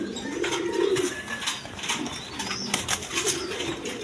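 Quality pigeons in a running pair coo in low throaty bursts amid busy wing flapping and rustling, close and continuous, with no talking.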